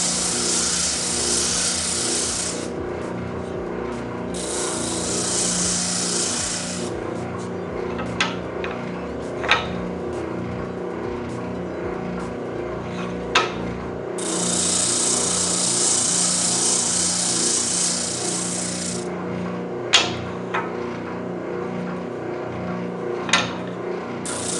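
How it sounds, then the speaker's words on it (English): A spindle sander works the inside curves of a wooden piece, a steady motor whine and hum with a rising hiss each time the wood is pressed in, broken by a few sharp knocks, close, with no talking. "Now the spindle sander really only does the inside of a curve"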